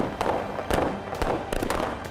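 Green firecrackers set off during Diwali in Rajasthan, sounding as a run of sharp, loud bangs that repeat irregularly over a steady crackling background.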